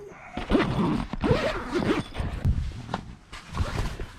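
Zips on a Dune 4WD King Titan Deluxe double canvas swag are pulled open in several quick rasping runs, close and fairly loud, with rustling of fabric between them and no talk.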